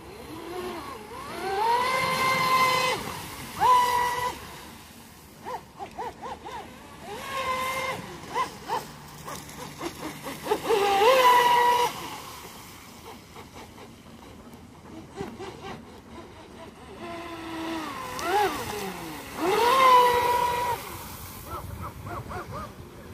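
A Vector SR80 RC boat with a small 3180 kV motor, Hobbywing Seaking ESC and 4S LiPo runs on a river, its high whine surging and fading in repeated passes as it comes near and draws away.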